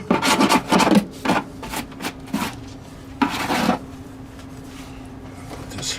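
Short bursts of scrubbing and rubbing as slippery silicone is cleaned off the bottom of an RV fridge cooling unit with cleaner, several brisk strokes close up followed by quieter pauses.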